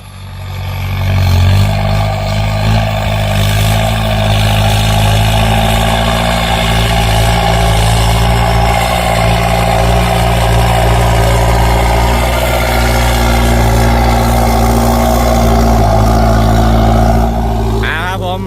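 The engine of an M8808 vehicle, recently fitted with an upgraded turbo, runs at a steady, loud idle close by at a rubber plantation, a deep continuous rumble with someone talking over it.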